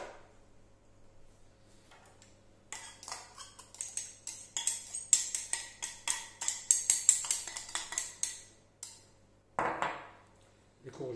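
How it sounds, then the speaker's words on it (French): Ground meat stuffing for a courgette gratin is mixed by hand in a bowl, producing a run of close, rhythmic wet slaps and squelches with clinks against the bowl, starting after a quiet pause. "Je vais tout mélanger et faire une farce"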